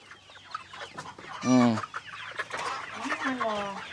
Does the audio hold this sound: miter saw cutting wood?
no